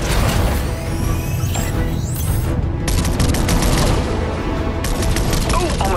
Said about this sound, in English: I was hoping we'd have an excuse to try out the Battle Bus's laser cannons.